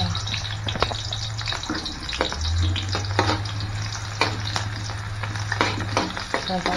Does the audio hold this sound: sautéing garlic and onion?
yes